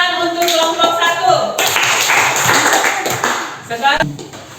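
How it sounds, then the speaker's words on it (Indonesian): Students in a classroom physical-education lesson applaud a group, a burst of clapping that fills the middle stretch while a voice speaks at the start and again near the end. "Berikan tepuk tangan untuk kelompok 1."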